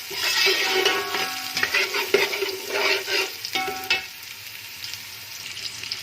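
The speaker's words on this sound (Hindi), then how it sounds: "अब इसमें हमने प्याज भी डाल दिए। प्याज ब्राउन हो रहे हैं" Onions browning in a hot pan after ginger and garlic, a steady crackling hiss with occasional stirring scrapes, close and fairly loud, no talking.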